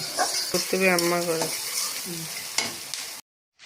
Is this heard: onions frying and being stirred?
yes